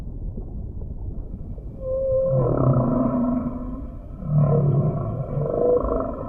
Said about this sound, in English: The whales in different oceans have different songs.